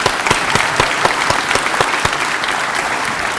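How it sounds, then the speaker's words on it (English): A room full of people at a medical school white coat ceremony claps steadily, a dense patter of hands with a few sharper claps standing out. "We are going to give you applause and gratitude"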